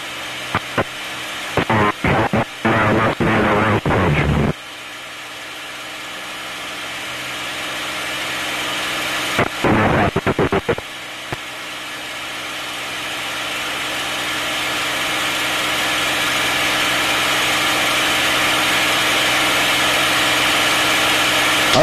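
A P-51 Mustang engine drones steadily from the cockpit in flight at about 5,000 feet. The noise is loud and continuous, broken early on and near the middle by short bursts of crackling clicks.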